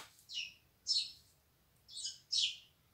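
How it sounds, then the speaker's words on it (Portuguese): Sparrows chirp in short, bright bursts, four clear calls spaced unevenly over a faint low background hum, moderately near and fairly quiet. "Hoje foi dia dos pardais."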